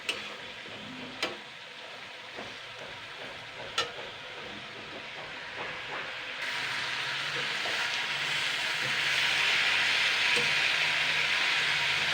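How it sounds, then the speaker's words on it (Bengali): Moringa leaves fry lightly in a pan, a soft sizzle with occasional sharp clicks that swells into a louder, denser hiss partway through. "আমি একটুকুনি দুই থেকে তিন মিনিট হালকা ভাজা করে নেবো আগে"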